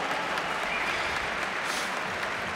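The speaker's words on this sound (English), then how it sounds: "round of applause for him." A fight crowd at a kickboxing event applauds for a fighter, a steady, even wash of many clapping hands at moderate distance with no talk over it.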